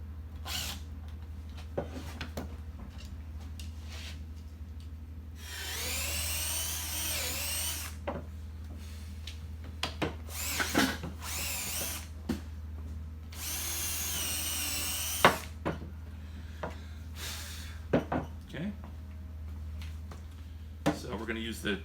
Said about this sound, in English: So we're going to use the drill for drilling.